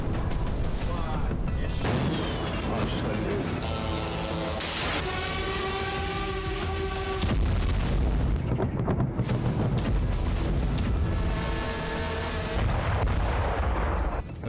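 Heavy booms and rumbling blasts from artillery fire and explosions in Russian attacks on Ukraine roll through a dense, continuous wall of noise, with tonal whines and a sustained roar across the stretch.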